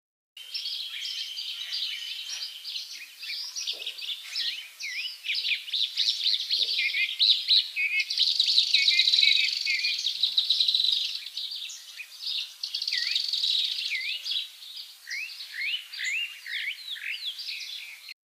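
Many birds call at a bird sanctuary: a dense chorus of chirps and twitters that overlap steadily and stay fairly close and clear, with no talking.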